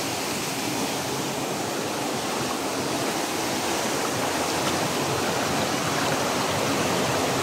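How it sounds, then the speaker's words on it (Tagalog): Strong stream water rushes in a dense, constant roar, close and loud with no voices over it. "Lakas ng agos ng tubig."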